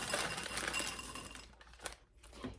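Chocolate chips pour into a glass or metal bowl with a bright, clinking rattle that thins out, followed by a few scattered small clicks and a light knock.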